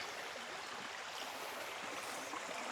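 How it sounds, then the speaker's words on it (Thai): Steady rushing of a flowing stream in Uthai Thani, Thailand, a continuous broadband wash of water with no voices, close and fairly loud throughout. "เราก็จะมาลำธารตรงนี้"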